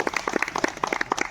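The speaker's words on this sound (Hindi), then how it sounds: "हम एक दूसरे के लिए आइए ताली बजाते हैं।" Audience at a YouTubers meet-up in Jashpur clapping for one another, a quick run of distinct close hand claps in an uneven rhythm, brief and fairly loud.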